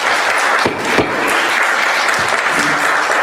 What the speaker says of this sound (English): We do not applaud.